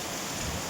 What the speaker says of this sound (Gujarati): વરસાદ ચાલુ છે, વરસાદી માહોલ છે